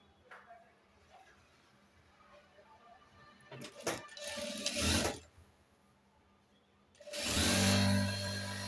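A sewing machine stitches a 10-year-old boy's full-length pajama with a side zip pocket, running in two loud bursts separated by a quiet pause.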